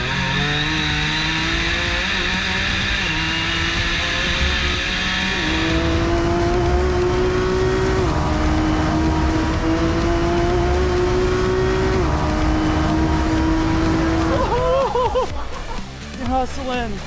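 A race car on a fast super lap, its engine note climbing through gears with sustained, loud revving and shifts, then a sharp sweep near the end, heard under continuous commentary.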